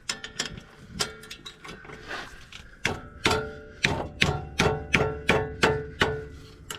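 Ratcheting and clunking from a breaker bar being worked on a 2003 Ram 1500 wheel bearing, with sharp repeated clicks and knocks, evenly spaced and close by in the second half.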